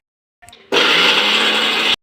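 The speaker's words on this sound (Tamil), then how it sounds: "இப்போ நம்ம அந்த மிளகு சீரகம் போட்டதை வந்து நம்ம அரைக்கலாம்." A mixer grinder whirs loudly as it grinds black pepper and cumin into powder, starting with a brief rattling spin-up before settling into a steady, dense roar that holds for over a second and cuts off abruptly.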